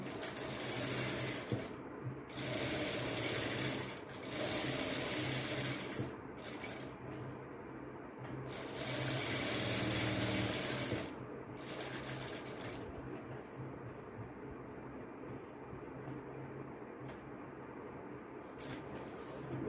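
A sewing machine stitches an open-back blouse, running in several close, loud bursts of rapid whirring with short pauses between them, then falling quiet toward the end, with no talk.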